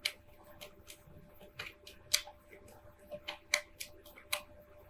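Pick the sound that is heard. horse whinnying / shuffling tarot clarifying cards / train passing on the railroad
shuffling tarot clarifying cards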